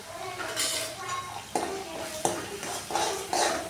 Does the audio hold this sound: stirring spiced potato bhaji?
yes